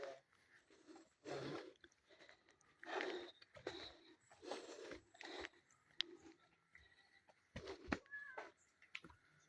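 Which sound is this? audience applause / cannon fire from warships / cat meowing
cat meowing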